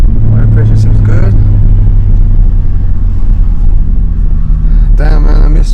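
A Nissan 350Z engine idles with its newly replaced fuel pump, giving a steady, close, low rumble throughout, while someone talks over it.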